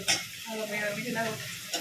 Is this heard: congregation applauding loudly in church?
no